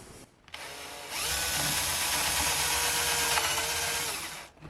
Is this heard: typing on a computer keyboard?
no